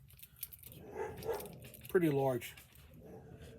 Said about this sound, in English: my dog is barking at people walking by through the front door